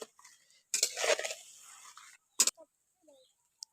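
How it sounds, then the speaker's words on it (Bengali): A spoon stirs turmeric powder and salt into water in a pot for a sour morla fish broth, giving a few brief scraping and clinking bursts separated by quiet gaps. "হলুদ গুঁড়ো দিয়ে ভালো করে মিশিয়ে নিচ্ছি।"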